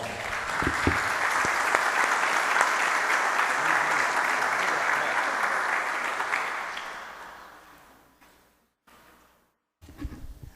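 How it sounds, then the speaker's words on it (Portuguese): An audience welcomes a priest to a parish gathering with sustained applause, dense clapping that holds steady for several seconds, then thins and fades out before a short burst of noise at the end. "Vamos recebê-lo com uma salva de palmas."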